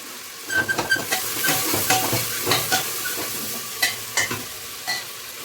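Vegetables sizzling in a pan on the stove while being stirred, a close, crackling fry broken by irregular scraping and clinking strokes, with no talk.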